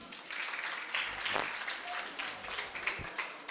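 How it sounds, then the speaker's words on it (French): Faint, steady applause from a studio audience on a radio and TV quiz show, a soft continuous patter of many hands lasting a few seconds. "On les applaudit."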